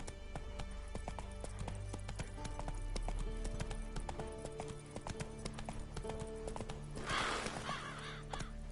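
Hooves of Roach, the horse in The Witcher 3, clop in a steady trotting rhythm over game ambience, and a brief whinny rises near the end.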